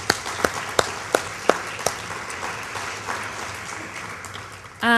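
A film festival audience applauds its volunteers, with several sharp, distinct claps standing out early over a softer wash of clapping that thins out before a voice begins at the very end.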